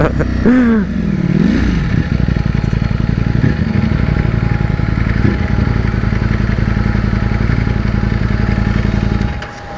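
A 2021 Ducati Panigale V4S runs loud and close, a brief rev at the start settling into a steady rumbling, pulsing engine note with some clatter before cutting off near the end.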